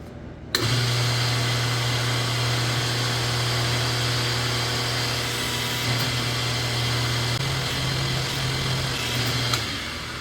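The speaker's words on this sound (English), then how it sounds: "I'm going to press it, rotate it, press it, rotate it a couple times" A hydraulic or mechanical press starts up abruptly and runs with a loud, steady motor drone while pressing a deep bear impression die into aluminum foil, its pitch shifting slightly near the end.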